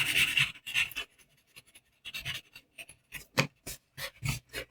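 Pencil shading on paper around the chin and under the lip of a child's front-view face drawing: bursts of dry scratchy rubbing strokes, close and fairly loud, separated by brief pauses.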